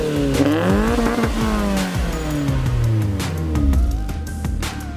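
A Mazda MX-5 Miata engine revved hard several times close by, the pitch sweeping up and falling back in repeated blips with a loud, raspy exhaust note and no talking.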